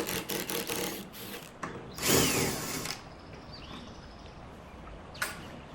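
Power drill backing long screws out of the legs of a vintage wooden sideboard, a few short whirring bursts with a louder run in the middle, close and alone.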